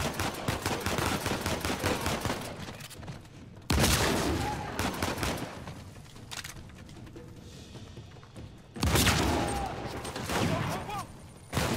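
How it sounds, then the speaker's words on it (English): Shotgun gunfire in the video game Uncharted 4, with loud close blasts and dense bursts of shooting separated by short stretches of quieter combat noise. "Fucking love shotguns."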